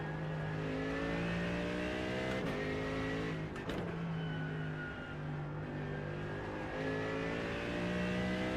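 A race car engine in iRacing drones steadily at high revs, its pitch rising and falling through gear changes with a couple of brief sharp clicks midway, loud and continuous with no talk.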